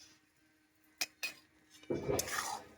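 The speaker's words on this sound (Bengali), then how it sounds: "এবার চিনি আম ভালো করে নাড়াচাড়া করে নেব" Raw mango pieces and sugar stirred in a pot for pickle, with a couple of sharp spoon taps on the rim followed by a denser scraping, sloshing stir, close and soft.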